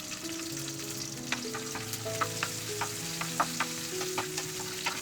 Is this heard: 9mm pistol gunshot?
no